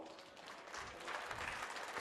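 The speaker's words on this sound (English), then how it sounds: "rightfully garners the applause of the crowd here today" A darts crowd at the WDF World Darts Championship applauds steadily, a dense wash of clapping at moderate distance that swells slightly toward the end.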